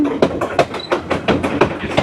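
A passenger train on a route through America to the Grand Canyon rumbles along, its wheels beating a steady, rhythmic clickety-clack close by from inside the carriage.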